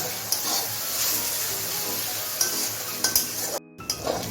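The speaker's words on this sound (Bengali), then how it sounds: "এখন আমি দু থেকে তিন মিনিট ভালো করে কষিয়ে নিব" Onion cooking down in a pan with ginger, garlic and green chilli pastes and a little water for egg bhuna, a steady sizzle broken by spoon clinks and stirring scrapes, briefly dropping out near the end.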